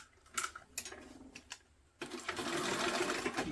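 A sewing machine stitches a vinyl tote bag seam, a few short separate taps and stops at first, then a continuous fast whirring run of stitching, close and fairly quiet.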